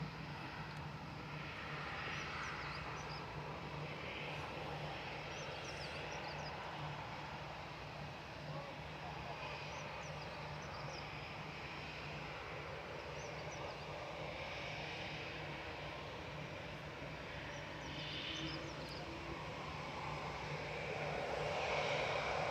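Engines of a Norse Boeing 787-9 positioning out of Manchester Airport for London Gatwick, a steady broad roar that holds evenly throughout and swells slightly near the end, with a low constant hum beneath.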